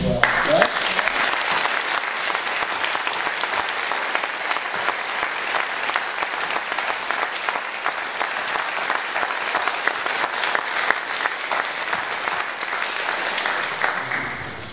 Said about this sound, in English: a round of applause to a man who's run the race and finished well